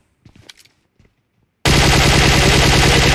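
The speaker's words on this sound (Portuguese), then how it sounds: "deram tiro em mim aqui, velho" A few faint scattered clicks, then a sudden, loud, sustained burst of rapid automatic gunfire from PUBG played on a Samsung S9+ phone that continues to the end.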